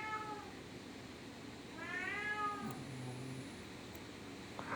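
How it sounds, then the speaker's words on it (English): Several faint, distant cat meows at an indoor home setting, a drawn-out cry early, a clearer rising meow midway and a brief one at the end, over a steady low background hum with no talk. "you're gonna hear my damn cats in the background"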